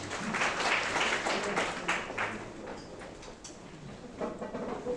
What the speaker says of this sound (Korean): 이성호 박사님을 박수로 모시겠습니다.